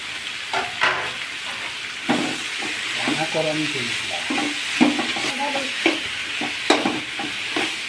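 Green chillies and tomatoes frying in a pan for puri masala, a steady close sizzle and hiss with intermittent stirring clatter, under brief talk.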